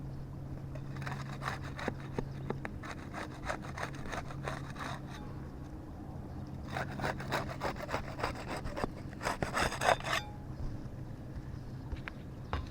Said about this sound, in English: We'll use the putty knife to unseal the top shingles.